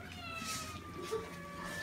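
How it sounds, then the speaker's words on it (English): A cat meows clearly nearby, a drawn-out wavering cry over a steady background hum. "Whose goddamn cat is that?"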